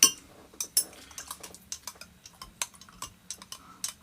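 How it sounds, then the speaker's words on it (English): A spoon stirring Chinese chicken curry in a pot, with a quick string of light metallic taps and scrapes against the pot's side, close and fairly quiet, no talk. "get yourself a spoon, give that a stir"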